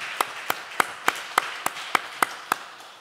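During a Sunday church service, about ten distinct sharp claps ring out one by one at an even, steady pace against a quiet room.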